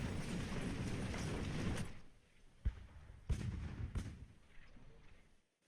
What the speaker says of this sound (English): I guess that's the cannons just setting off a final volley